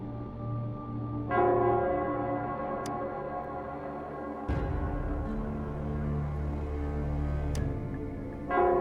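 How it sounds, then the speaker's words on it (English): The Nell Squares bell from the video game Wuthering Waves rings out in deep, resonant tolls with long sustained decay, struck about three times over a tonal background. "it's the Nell Squares bell"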